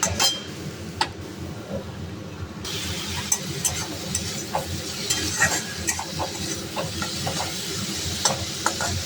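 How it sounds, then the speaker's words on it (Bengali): Okra frying in a pan on the stove: a soft, steady sizzle with scattered clinks and scrapes of a utensil stirring, fairly close and quiet with no one speaking. "আর এদিকে ভেন্ডিটা চাপিয়ে দিয়েছি।"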